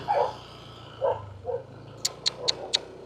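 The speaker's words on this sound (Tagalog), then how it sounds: "Sira ulo yung aso na yun" A dog barks several times in short bursts, a few louder yelps at first, then four sharp, evenly spaced high barks close by.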